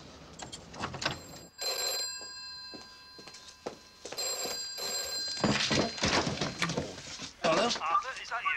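A telephone bell rings in repeated bursts indoors, under and between people talking in a TV drama scene.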